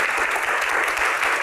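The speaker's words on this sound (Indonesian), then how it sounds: "Tepuk tangan ya" Audience at an Indonesian Q&A event applauds steadily for about a second and a half, a dense, continuous clapping that stays loud and even throughout without voices.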